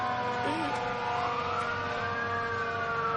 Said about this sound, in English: Gina, honk that horn.